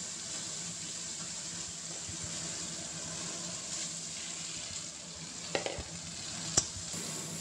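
Vegetables fry and get stirred among spices in a pan, making a soft, steady sizzle at low volume, with a couple of brief utensil clinks near the end.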